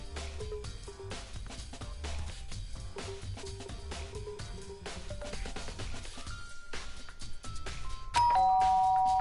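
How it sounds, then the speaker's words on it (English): A video-game doorbell chimes over a busy music backdrop, with a bright ding-dong tone ringing out near the end. "Ding dong."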